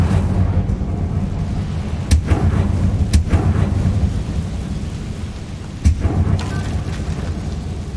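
Incendio fire spells cast in Hogwarts Legacy, heard as a steady rumbling, crackling roar with a few sharp bursts flaring up at intervals.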